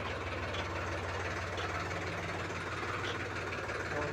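A Sonalika DI RX 35 tractor engine works while lifting a cultivator loaded with ten sacks of fertilizer. It gives a steady, loud, close diesel thrum with a rhythmic low knock and no break.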